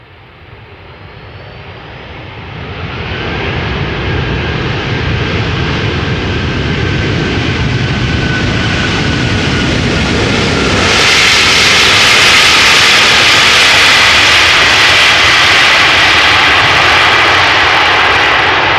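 An airliner arriving at Amsterdam Schiphol Airport roars in close and loud, building over several seconds into a broad, sustained jet-engine blast that peaks and holds toward the end.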